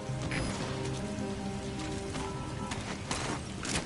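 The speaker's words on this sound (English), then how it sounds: "Because of the rain." Steady rain falling in the video game Metal Gear Solid V, a dense, even hiss of drops that stays constant throughout, with faint tonal game sounds underneath.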